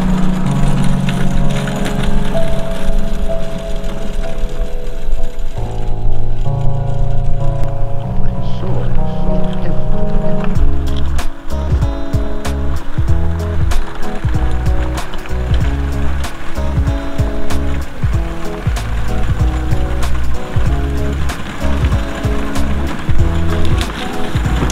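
Cub Cadet XT1 electric tractor pushing snow with a plow, weighted with custom bucket wheel weights, giving a loud continuous whir and scraping grind with rhythmic thumping bursts in the second half, and a voice talking over it.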